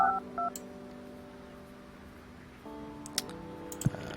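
In the Project Highrise building game, a phone line being hooked up plays a quick run of telephone dialing tones, then a sustained layered tone with a few small clicks and blips. The sound is clean and moderately loud, with no talking.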